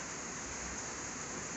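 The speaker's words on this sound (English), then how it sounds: "back to raining" Steady rain falls on a very wet day at a cattle operation, a continuous, even hiss of droplets without pauses.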